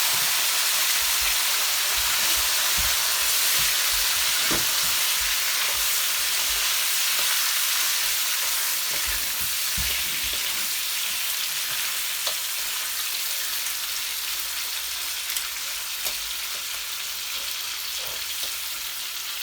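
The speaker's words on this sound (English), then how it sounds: "So I'm just gonna brown off this oxtail." Oxtail browning in very hot oil in a pot, a loud, steady, close sizzle and crackle running throughout, dotted with sharper pops and occasional clinks, with no talking.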